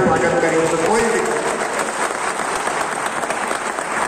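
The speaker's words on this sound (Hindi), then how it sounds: "इसे ताली बजाकर आपने स्वागत करें" A crowd at a political rally about farm laws claps in a broad, continuous wash of applause, loud at first and then settling into a steady patter without a voice over it.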